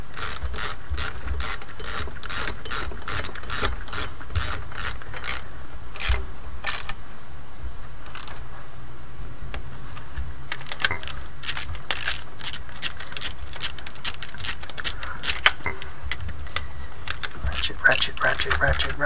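A ratchet wrench turns in rapid bursts of clicking, close and loud, with short pauses between runs of strokes.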